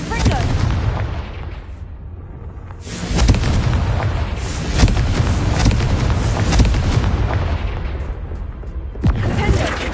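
Repeated booming Confringo spell blasts in Hogwarts Legacy arrive as loud, rumbling explosions, one after another, over several seconds amid game noise and brief voices.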